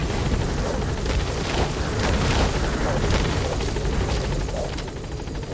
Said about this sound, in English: you can't really use the helicopter on the skulls in this boss fight at all